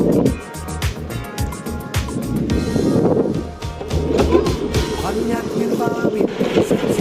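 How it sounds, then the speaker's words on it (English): A Puaida P6S electric skateboard rolls along with a low motor drone and rumbling wheel noise on pavement, plus rapid clicks and knocks from the deck, loud and close throughout. "This motor is quiet and smooth."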